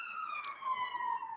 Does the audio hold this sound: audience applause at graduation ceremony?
no